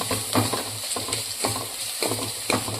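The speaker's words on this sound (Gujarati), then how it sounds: "હવે આપણે તેમાં આદું અને લસણની પેસ્ટ ઉમેરી દઈશું તેને પણ સાથે સાંતળી દઈશું" Sliced onions, already browned, hiss steadily in a pan with freshly added ginger-garlic paste for paneer tikka masala, with regular stirring scrapes and clinks about every half second.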